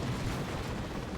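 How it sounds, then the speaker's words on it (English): A plasma cannon shot and a grenade blast go off in the strategy video game Dawn of War 2, a dense, rumbling burst of explosive noise with low thuds blending into battle din. "There's a plasma cannon shot. There's a grenade as well."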